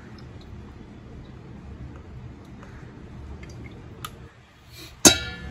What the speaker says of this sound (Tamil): இப்போ இது மேலே எண்ணெய் நல்லா ஊற்றிக்கலாம்.